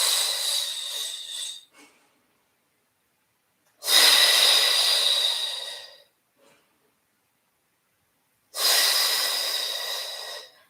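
Deep, slow breaths during an ab-intensive Pilates mat exercise: three long, loud, close exhale-like rushes of air, each about two seconds, separated by near-silent pauses and faint short inhales.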